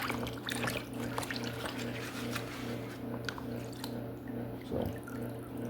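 Water splashes and rinses over a Ford 2.3 turbo engine block being flushed clean, a steady wet spray with scattered drips and squishy splatters over a constant low hum, close and fairly loud.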